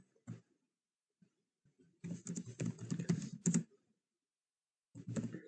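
Bursts of typing on a computer keyboard, quick clusters of clicking keystrokes separated by silent gaps, close and clear with no talking.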